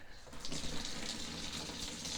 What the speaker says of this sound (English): So I turn on the hot water.